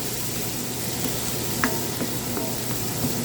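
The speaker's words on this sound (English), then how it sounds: "fish that I fry in the oil" Snook fish fry in oil for a Guyanese curry, giving off a constant close sizzle with faint crackles and occasional small pops throughout.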